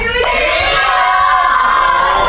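At a horror film premiere, an audience cheers and shouts in a dense, loud, continuous roar of many voices.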